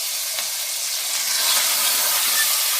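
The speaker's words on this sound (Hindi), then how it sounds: "इसको भूनना है अच्छी तरह।" Half a kilo of beef mince frying in a pan, a loud continuous bright sizzle and hiss that holds steady throughout, close up with no voices.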